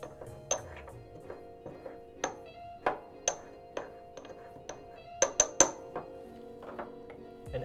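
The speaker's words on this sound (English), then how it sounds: "We're going to crush the tablet into a fine powder." A food supplement tablet is crushed into fine powder with a series of sharp, ringing metallic clinks and taps, irregularly spaced and sometimes bunched in quick clusters, close and fairly quiet, with a faint ringing tone between strikes.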